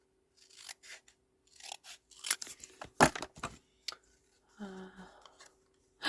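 Scissors trimming the bottom off a handmade stamped greeting card, giving a few quiet close snips and a brief rustle at a cluttered craft desk, with no talking.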